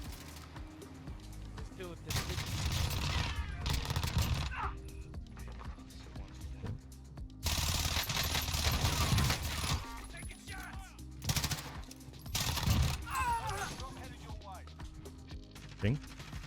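Fennec submachine gun in the Warzone video game firing in rapid bursts, loud and close, with several separate volleys and gaps between them and someone talking over parts of it.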